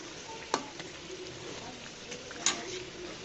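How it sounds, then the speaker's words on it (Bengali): An egg paratha fries quietly in a pan, a faint steady sizzle with two sharp clattering knocks as it is turned over. "উল্টিয়ে পাল্টে আমি পরোটাটা ভেজে নিচ্ছি।"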